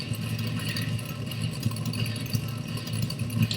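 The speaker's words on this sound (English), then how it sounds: "Wow, I love those engine noises." Drag racing car engine in a retro video game drones steadily with a low, buzzy idling tone and light rattle, continuous and fairly loud throughout with no talk.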